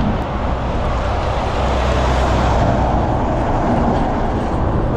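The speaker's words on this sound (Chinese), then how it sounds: "这个308省道的大车还是有一些多的，基本上全都是这种大货车，" Heavy cargo trucks roll along a busy provincial road, a steady loud roar of engines and tyres that fills the whole stretch without letting up, with no voices over it.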